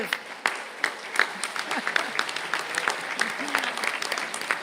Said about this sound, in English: give them a big round of applause as a thank you